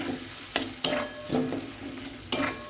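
Spices with salt and turmeric sizzle in hot oil in a pan while a spatula stirs them, a constant frying hiss broken by four sharp scrapes and knocks, close and loud.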